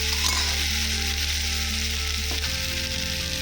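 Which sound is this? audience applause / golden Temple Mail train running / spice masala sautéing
spice masala sautéing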